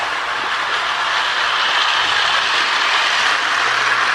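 An Ives 1120 model train runs a lap, a loud continuous mechanical whirring and ratcheting gear clatter, close and steady throughout.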